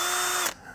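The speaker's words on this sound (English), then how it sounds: "I'm going to drill a couple pilot holes through the PVC pipe" Power drill boring pilot holes through PVC pipe for a garden bed hoop house frame, a loud steady whine that holds for about half a second and then cuts off, leaving quiet room tone.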